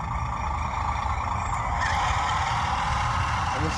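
A WPL RC truck's electronic sound module drones with a steady simulated engine rumble after a throttle blip, holding a constant loud hum with a slight lift partway through and no talking.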